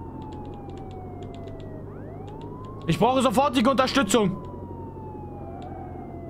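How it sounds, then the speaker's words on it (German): A police car siren in the video game Contraband Police wails steadily in the background, rising and falling under engine noise, while someone speaks urgently over it partway through. "Ich mache die Sirene an."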